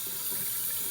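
Cool tap water runs steadily into a sink while a synthetic wig is washed, a continuous close hiss and splash with no talking.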